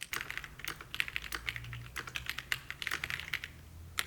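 Rapid, uneven clacky keystrokes on an Aula F75 mechanical keyboard, high-pitched taps with slight resonance, steady continuous typing heard up close with no voices.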